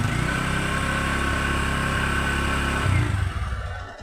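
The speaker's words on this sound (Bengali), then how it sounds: "পিক আপ ছেড়ে দিলাম, গাড়িটা এখন চালু আছে। দেখেন কি স্মুথ সাউন্ড।" A pickup truck engine idles steadily nearby, a smooth, even low rumble that holds constant and then eases slightly toward the end, with no talking.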